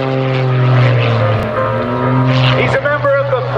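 An aerobatic propeller airplane flown by a French aerobatic team member at EAA AirVenture Oshkosh 2015 drones loudly with a steady engine note and prop hum while hanging at low airspeed in a slider, with a voice talking over it.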